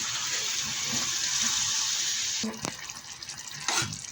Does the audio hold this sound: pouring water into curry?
yes